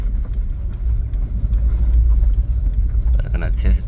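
A rebuilt Polo Vivo car, driven on a flat tire, gives a steady low engine and road rumble throughout, with people talking over it.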